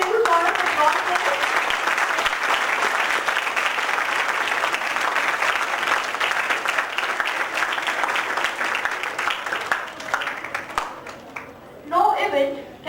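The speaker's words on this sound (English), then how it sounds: "Let's have a little round of applause." A conference hall audience at a commerce and management conference breaks into sustained applause, a dense wash of many clapping hands that holds steady, then thins out, with a voice rising briefly at the end.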